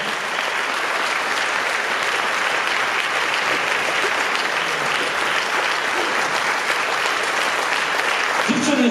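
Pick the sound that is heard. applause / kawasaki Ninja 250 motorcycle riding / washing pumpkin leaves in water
applause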